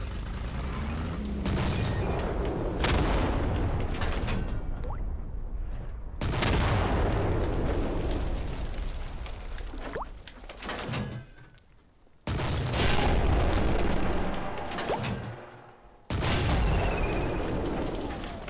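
A modded armed tank in Garry's Mod fires repeatedly, loud booming cannon blasts with rumbling tails and a ricochet, several shots spaced across the stretch with brief gaps between them.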